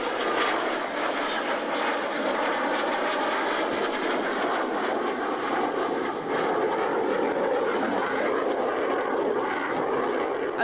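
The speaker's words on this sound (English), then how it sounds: "Look at that Vulcan." An Avro Vulcan jet bomber passes overhead, a loud continuous engine roar with a rough, wavering texture that swells slightly toward the end, heard alone without talk.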